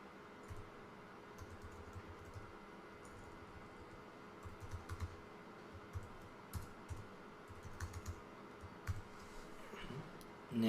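Computer keyboard typing runs steadily throughout, quick irregular key clicks close and moderately quiet, with brief bursts and pauses as names and passwords are entered, no voices.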